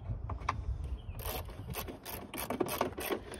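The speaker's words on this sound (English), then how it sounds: "grab your 8mm socket and ratchet or 8mm wrench and go ahead and start loosening them" Socket ratchet clicking as 8mm bolts on a 2008 Ford Explorer taillight housing are loosened, a close series of quick ratcheting bursts.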